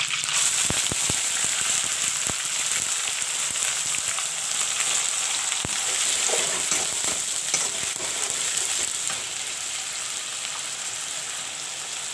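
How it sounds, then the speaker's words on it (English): Onion paste frying in oil for a chicken curry with curry leaves and red chilies, a loud continuous hissing sizzle with a few sharp pops and occasional stirring, steady throughout. "I will fry the onion paste a bit. I will let it fry."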